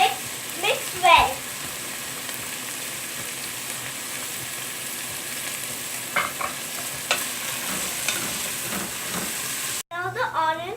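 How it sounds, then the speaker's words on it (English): Onions fry in hot oil for a curry with chilies and salt, a steady close sizzle and hiss broken by stirring scrapes, with brief speech near the end. "Now the onions are fried."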